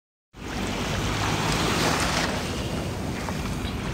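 Waves at Pattaya beach in Thailand, a loud continuous wash of surf with wind buffeting the microphone, starting suddenly after a brief silence and holding steady without speech.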